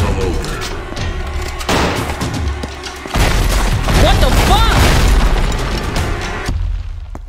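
Loud video game gunfire and heavy booms mix with chaotic noise in a Backrooms horror game, several blasts and bursts in quick succession while a voice curses over them.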